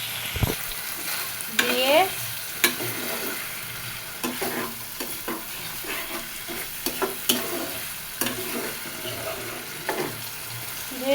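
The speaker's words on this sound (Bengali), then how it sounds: "এর ভিতরে সামান্য পরিমাণে জল দিব," Potatoes and eggs frying in a pan with a little water added, sizzling steadily while a utensil stirs and scrapes in irregular knocks, close up; a voice speaks briefly.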